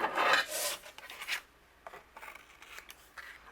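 Overhanging paper being trimmed off a handmade card panel, heard as a dry rasping cut, loudest at first and then fading into lighter scraping and snipping, close up and quiet.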